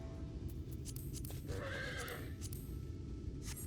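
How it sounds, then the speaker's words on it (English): A horse mount from the video game Final Fantasy XIV neighs once, a short whinny with faint hoof clops, heard clearly and alone over steady background game ambience. "we've got one horsey with a unicorn horn"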